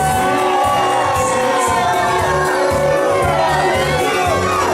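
Wrestling arena crowd roaring in displeasure, a dense wall of shouts, yells and whoops from many voices that holds steady and loud from start to finish.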